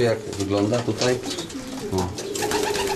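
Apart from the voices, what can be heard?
racing pigeons in a loft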